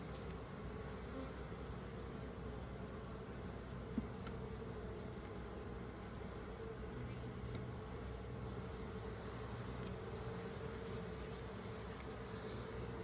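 A dense, steady hum of many honeybees buzzing continuously close at hand at a swarmed hive, with no voices, just the constant drone throughout.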